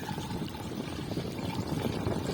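Water from a bucket pours steadily onto garden rows, a continuous splashing rush that stays even and close throughout, with no talking.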